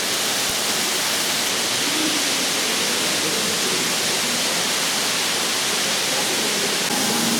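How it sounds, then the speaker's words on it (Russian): An underground waterfall pouring straight out of the rock inside the New Athos cave: a dense, steady, loud rushing hiss of falling water, unbroken throughout. "И здесь же, посмотрите, прямо из породы течет водопад."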